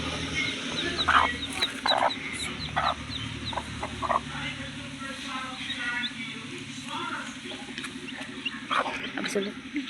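Baby chicks peep and cheep in short high bursts near a water dish, scattered through the scene while a person talks over them at close range.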